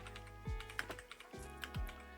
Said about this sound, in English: Half of this video is me typing slowly.